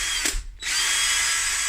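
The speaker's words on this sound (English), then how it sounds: "Let's start with a drill, and then we'll get a drill piece." A power drill bores a small hole into a BMW M240i, a steady high-pitched whine running almost unbroken at close range, with one brief dip as the bit catches or pauses.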